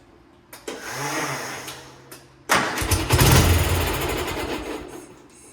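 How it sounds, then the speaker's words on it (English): A Gravely G-16 tractor engine is cranked with a jump starter: a short crank that falters, then a second crank that catches and settles into a loud, rough, close running idle. "I can switch the jumper, the charger to jump start mode, and give it the crank over"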